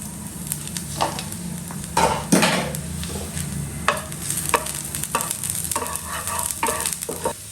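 Chopped garlic frying in white cooking oil in a pan, a steady sizzle running underneath while a utensil stirs and scrapes against the metal in scattered, irregular strokes.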